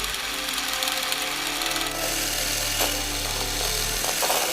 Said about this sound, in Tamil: அதை நல்லா ஒரு எலக்ட்ரிக் எக் பீட்டரை வச்சு பீட் பண்ணுறோம்.